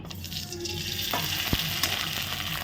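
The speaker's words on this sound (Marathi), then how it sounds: "तांदळाचे पापड तळू तेल तापलं आहे" Rice papads, made from Indrayani rice, frying in hot oil: a steady broadband crackle and sizzle, fairly close, with a few sharper pops and stirring clinks partway through, no talking.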